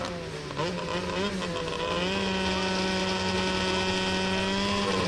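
Racing snowmobiles idle and rev together at a starting line at Tenney Mountain, a loud sustained multi-engine drone that climbs in pitch and holds steady at high revs.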